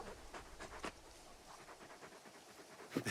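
In the Final Fantasy XVI video game, a big dog pants quietly in soft rhythmic breaths over a low ambient game background, with no talking.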